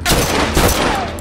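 Turret gunfire rattles in The Last of Us Remastered multiplayer, a loud, dense burst of rapid shots that runs unbroken through the moment and sounds close.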